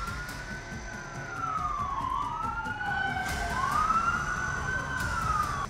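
An emergency siren wails up and down in sweeping cycles over steady traffic rumble, loud and fairly close, rising slightly in volume as it continues.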